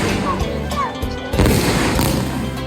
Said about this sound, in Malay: menjadi terang benderang seketika dek sinaran cahaya bunga api dan dentuman mercun silih berganti